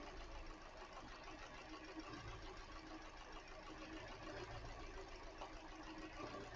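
An engine with a misfire idles quietly and evenly with a faint, uneven knocking pulse throughout; no one speaks.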